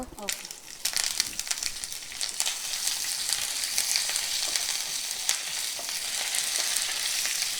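Curry leaves dropped into hot oil burst into a loud, crackling sizzle after a quiet first second, then keep frying steadily and brightly with no talk.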